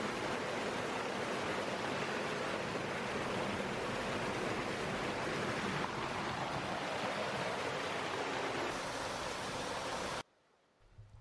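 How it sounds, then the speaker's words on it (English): Moss Brook pours out of a drain into daylight beneath Rochdale Road in Manchester, a loud, constant rushing flow that holds steady for about ten seconds before cutting off abruptly. "So this is the Moss Brook emerging into daylight just underneath Rochdale Road in Manchester."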